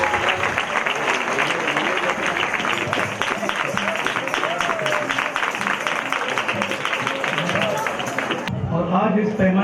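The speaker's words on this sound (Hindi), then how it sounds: "सभी ताली बजाकर उनका स्वागत कीजिए।" Audience applause at a Hindi-language interfaith conference stage, sustained and dense for most of the stretch as a guest is welcomed, then cutting off as a voice begins speaking near the end.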